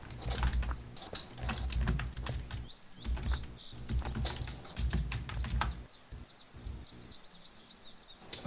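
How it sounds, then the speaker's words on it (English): Rapid clacking on a computer keyboard goes on in busy bursts with short pauses, close and clear, while faint high chirps sound in the background. "I was just typing in something"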